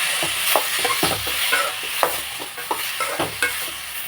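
Tomatoes sautéing in a pan with onions, stirred with repeated scraping strokes over a steady close sizzle, no voices.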